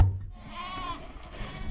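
Sheep bleat in farm yards, a drawn-out wavering cry from a close animal over a low background of livestock noise.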